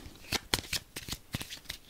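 A deck of cards is riffled and bridged in quick crisp bursts, close and fairly quiet, with no voices.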